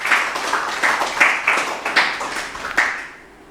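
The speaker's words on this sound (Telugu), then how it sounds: "గురువులందరికీ ఒకసారి గట్టి క్లాప్ చేసుకుందాం." An audience applauds the gurus at the close of a Dhyana Yogam meditation session, steady broadband clapping with a few louder swells that fades out near the end.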